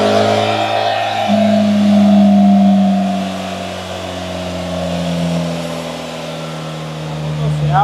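A BMW GS 1300 motorcycle on a dyno, a bike prone to overheating with a cooling fan running, revs up in a steady rising engine drone with strong harmonic tones, held loud and close for several seconds under a constant fan hiss.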